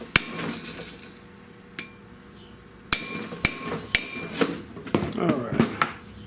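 Sharp metallic hammer strikes drive a seal into the front rotor of an old-school GM car, irregular blows spaced apart, a few quick clustered taps near the end, close and loud in a quiet garage.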